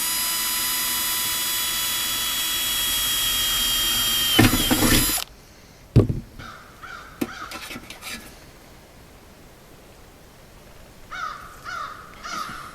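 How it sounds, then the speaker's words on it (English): A drill whines loudly for several seconds boring a pilot hole then stops, followed by a few sharp clicks, knocks and short mechanical rattles nearby. "we've made our pilot hole."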